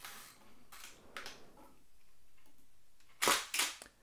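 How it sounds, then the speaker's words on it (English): A Hasselblad 503CW medium format camera fires its leaf shutter by remote control, giving two sharp mechanical clicks close together near the end, with fainter mechanical clicks earlier in a quiet room. "I can shoot and fire the leaf shutter and the lens"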